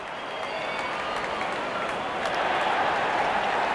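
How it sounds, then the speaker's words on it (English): A cricket crowd at an India versus Pakistan match applauds and cheers a batsman's fifty, with a dense, steady roar of clapping that swells slightly toward the end. "Little raise of the bat and the crowd goes crazy"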